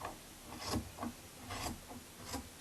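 Scissors cut through fleece fabric for a baby blanket, giving a few soft rasping snips and rubbing strokes in an uneven rhythm, close but faint with no talk.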